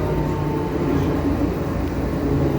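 A Manila MRT train pulls into a station with a steady, loud low rumble and hum of wheels and motors that fills the whole stretch, with no clear talk over it.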